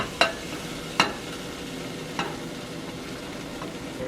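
Cheddar and a second cheese melt in a pan over low heat, with a soft steady sizzle broken by three or four sharp scrapes of a utensil stirring, quiet and close with no talking.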